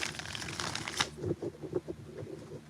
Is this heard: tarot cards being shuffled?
yes